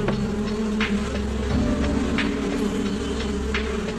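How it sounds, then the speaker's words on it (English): Bees buzzing in a steady, droning hum with a few brief louder passes, close and continuous without any voices. "the bees would need to start stinging to make the other bees aggressive"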